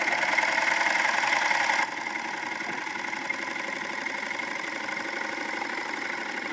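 A serger stitches a zipper pouch seam at a careful, slower pace, a steady, rapid mechanical whir with dense rhythmic clatter, close and even, easing slightly in level after about two seconds, with no talking.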